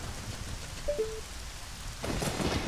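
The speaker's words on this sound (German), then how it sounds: "warum regnet's denn hier?" Steady rain hisses through a hacked Zelda: Ocarina of Time game, with two short tonal blips early and a louder, brighter downpour swelling in after two seconds.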